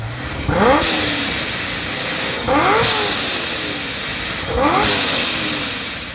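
A centrifugally supercharged 2004 Ford Mustang engine is revved up three times from idle, each rev climbing in pitch with supercharger whine and a hissing release as it drops back, loud and close.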